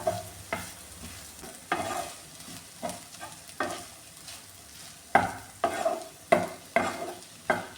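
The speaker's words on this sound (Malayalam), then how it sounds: "ഇനി ഇതിലേക്ക് ഈ തേങ്ങയും ചേർത്ത് കൊടുക്കാമേ ഇതെല്ലാം കൂടെ ഒന്ന് മിക്സ് ചെയ്ത് കൊടുക്കാം" Okra and grated coconut frying in a pan are stirred with a utensil, giving repeated scraping strokes about every half second to second over a steady soft sizzle, close and fairly quiet, with no talking.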